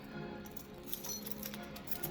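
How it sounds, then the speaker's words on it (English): A set of car keys jangles with light metallic clinks across the whole stretch, close by and fairly soft, without any speech. "Car keys."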